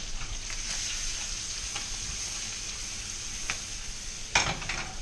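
Melted butter sizzles in a frying pan over low heat for an omelette, a soft continuous frying hiss with a few brief crackles and a sharper scrape near the end.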